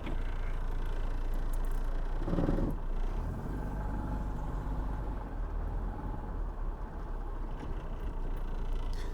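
A 1994 Rover Mini Cooper with a four-speed automatic pulls away, its engine giving a steady loud low rumble throughout, with a brief surge partway through.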